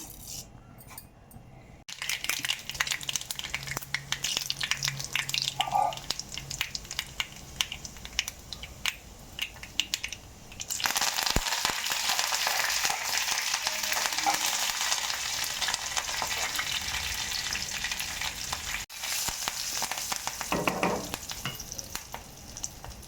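Spices tempering for sundal crackle and sizzle in hot oil, with stirring scrapes and a louder burst of frying partway through.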